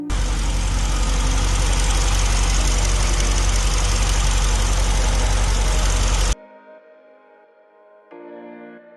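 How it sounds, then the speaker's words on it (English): A Mercedes-Benz G-Class W463b AMG G63 engine idles loudly and steadily, a dense, even running sound that cuts off abruptly and leaves only a faint hum and a brief tone. "the engine runs smoothly."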